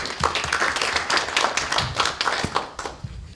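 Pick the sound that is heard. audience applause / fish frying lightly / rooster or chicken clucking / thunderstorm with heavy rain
audience applause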